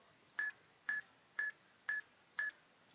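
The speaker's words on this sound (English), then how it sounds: "my timer didn't beep the correct amount of times" A timer used for RNG timing in Pokémon Sun and Moon beeps five times, with short, evenly spaced, fairly faint electronic tones about half a second apart and no talking.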